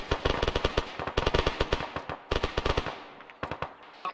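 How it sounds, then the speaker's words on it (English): Rapid bursts of close gunfire from a bunker during a field training exercise, sharp cracks in fast clusters separated by short pauses, loud and near, with no voices. "I'm taking effective fire from right bunker."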